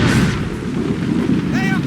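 Heavy cannon fire in a naval battle in the Assassin's Creed Rogue video game, a loud low rumbling blast with shouting voices over it.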